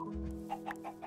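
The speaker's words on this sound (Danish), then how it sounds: "Okay, der er høns." Chickens clucking in the video game Minecraft, a few soft, close clucks standing out over a quiet background hum.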